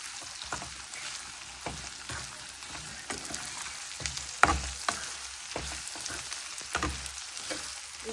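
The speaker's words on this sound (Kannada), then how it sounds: "ಈಗ ಚೆನ್ನಾಗಿ ಮಿಕ್ಸ್ ಮಾಡ್ಕೊಳ್ಳೋಣ." Capsicum being stirred in a hot pan, a soft continuous sizzle under repeated scraping strokes of a spoon, with a couple of sharper knocks against the pan, no talking.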